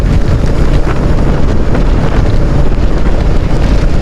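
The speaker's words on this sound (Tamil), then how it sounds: "மறுபடியும் மழை வருது" Heavy rain and strong wind outdoors at Kallar make a loud, continuous roar, with gusts buffeting the microphone and rushing noise from start to finish, and no voices.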